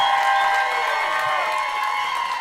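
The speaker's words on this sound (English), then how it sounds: "Start clapping for Josh Johnson" Audience clapping and cheering, a steady wash of applause and whoops from a crowd, loud and sustained with no breaks.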